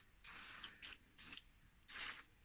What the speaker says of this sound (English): So it's just a quick spray